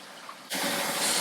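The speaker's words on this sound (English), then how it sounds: "you're going to get 2 quarts of hot water and you're gonna pour it into" Two quarts of hot water gush steadily into a pot of pozole mixture after a brief quiet moment, a close, loud continuous pour with no talk.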